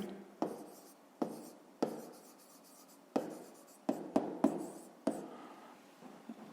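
Pen or pencil writing out a school math solution on paper: a series of close, distinct scratching strokes, each starting with a sharp tap and trailing off, separated by short pauses.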